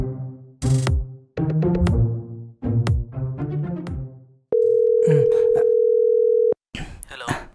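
A steady telephone dial tone holds for about two seconds after a few short spoken exchanges between people, then cuts off abruptly as more talk starts.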